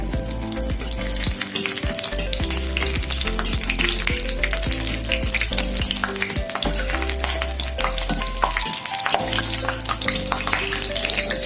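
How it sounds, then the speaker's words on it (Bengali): Raisins frying in a mix of oil and ghee give a steady, close sizzle with some stirring. Music plays over it the whole time, and no one speaks. "এবারে এই তেল আর ঘিয়েতে কটা কিশমিশ নিয়েছি কিশমিসটা একটু ভেজে নেব"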